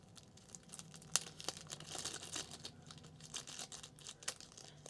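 Tape torn from a roll and pressed onto a bag, a faint close crinkling and ripping with a few sharp little crackles, quiet and brief.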